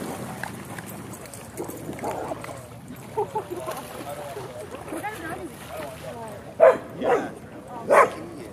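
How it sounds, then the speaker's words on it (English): A skittish greyhound near water gives a few short barks and whimpers, loudest toward the end, while someone talks over faint outdoor background. "I've caught the elusive greyhound."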